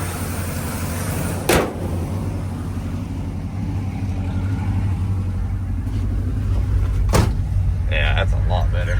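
A 1980 Dodge Power Wagon engine idles steadily with a low, constant hum, broken by two brief clunks and some faint rattling near the end.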